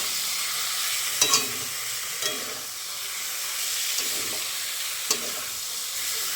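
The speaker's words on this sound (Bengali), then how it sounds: "এই যে সয়াবিন দিয়ে মিশিয়ে নিচ্ছি।" Soybean chunks stirred into a sizzling pan, with steady frying hiss throughout and a few sharp scrapes of the spoon against the pan at irregular intervals, close and moderately loud, no voices.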